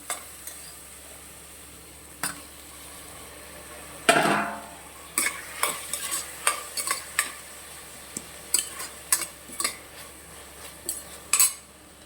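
Tomatoes sautéing in a pan for mutton bone soup: a quiet background sizzle under a series of sharp metal spatula clinks and scrapes against the pan, irregular at first and then coming in quicker bursts, with no voices.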